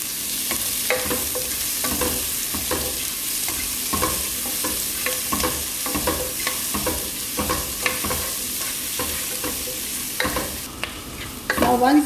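Sliced onion frying in a hot pan, a constant sizzle broken by repeated scraping and stirring strokes close by, with a brief louder clatter near the end.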